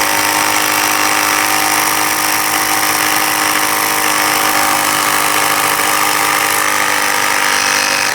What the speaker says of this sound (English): Air compressor is fixed and working.